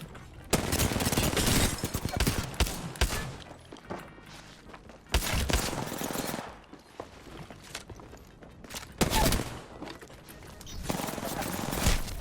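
Gunfire in the Apex Legends video game, with loud bursts of rapid automatic fire coming in several clusters and short pauses between them, mixed with mechanical clicks and movement sounds.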